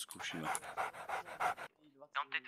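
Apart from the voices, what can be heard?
police K-9 service dog panting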